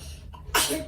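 A single sharp, close sneeze bursts out after a quiet moment, with a brief breathy tail fading away.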